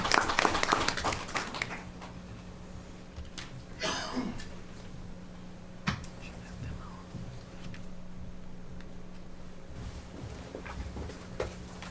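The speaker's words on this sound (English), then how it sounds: "give them a round of applause for being excellent employees" A short burst of scattered clapping rises in a city council meeting room at the start, then gives way to quiet room tone, with a cough, shuffling and a few stray sounds after it.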